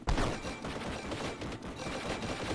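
Dense volleys of bolter fire from a massed Warhammer army in a strategy game, rapid overlapping shots forming a continuous loud rattle with no talk.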